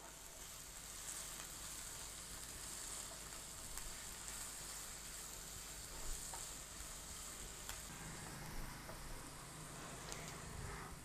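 Chopped onions and capsicum sizzle in a hot pan, a steady, dense hiss that runs without a break, with light stirring scrapes near the end; quiet and close, with no talk.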